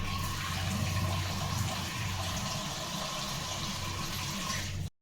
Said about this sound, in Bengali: চলো সবজিটাকে ভালো করে ধুয়ে নিই।